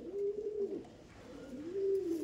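Andhra pigeons cooing close by: two soft, low, drawn-out coos with a gentle wavering pitch, one after another, alone in a quiet space.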